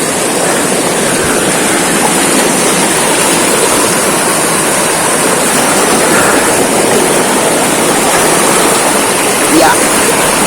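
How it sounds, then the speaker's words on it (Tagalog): A strong current roars through a rocky river in the General Nakar area of Quezon, a loud, continuous, dense rush of water that fills the whole scene without pause. "Kasi ang lakas ng agos eh."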